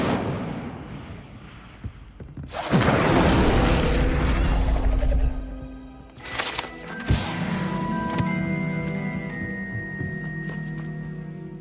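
Incendio fire spell cast in the video game Hogwarts Legacy: a sudden roaring burst of flame that swells for a few seconds, fades, then flares again with a sharp crackling hit and a lingering ringing tail.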